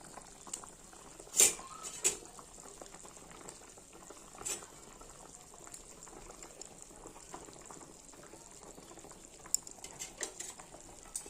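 Fish curry gravy made with rohu fish boils gently in a pan, giving a soft continuous bubbling with a few sharper pops and splashes scattered throughout.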